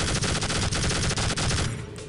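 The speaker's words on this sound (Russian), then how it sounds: "А, это пулемет." Rapid automatic machine-gun fire in the PC shooter Tribes: Vengeance, a loud continuous rattle of close shots that thins out near the end.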